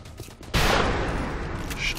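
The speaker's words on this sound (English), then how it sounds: "I think you will do rapid fire" Rapid-fire gunshots from a soldier in the XCOM Long War strategy game, a sudden loud burst of gunfire that rings on with a sustained crackling tail and no talk over it.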